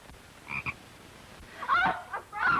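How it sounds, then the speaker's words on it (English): Frog croaking in a 1934 film scene, a short raspy croak followed by two louder, longer croaks, close and clear with no talking over them. "Oh, a frog!"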